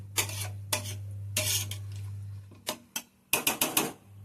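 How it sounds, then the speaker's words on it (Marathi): A metal lid clatters and taps onto a cooking pot of jackfruit curry, several sharp close clinks in irregular bursts over a steady low hum. "आणि आता आपण झाकण मारून ठेवतो"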